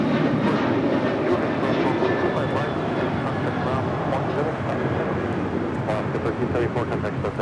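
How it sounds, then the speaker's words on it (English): An Alaska Airlines Boeing 737-900 departing Los Angeles International Airport, a loud, steady jet engine roar that holds throughout, with a radio voice and talk over it. "That is Alaska 1374 departing to Loretto on a 737-900."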